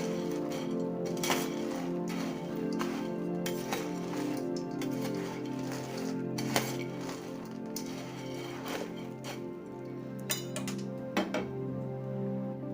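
Boondi being stirred and mixed in a bowl for colourful laddu, giving a steady run of soft clinks and scrapes with occasional sharper taps of utensil against the bowl, close up and without talk.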